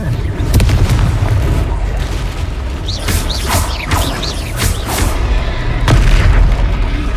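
The Confringo blasting spell going off in a Harry Potter video game, a run of loud booming explosions and bursts, several in quick succession, over a rumbling battle background.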